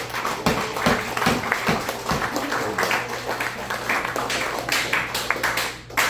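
College audience at a motivational talk applauding themselves, with dense crowd clapping and a few sharp, close claps standing out early, sustained for several seconds.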